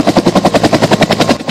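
A helicopter's rotor beats in a steady, rapid chop, loud and close, with a dense engine roar underneath and no other sounds.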